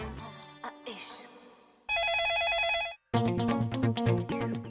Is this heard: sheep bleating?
no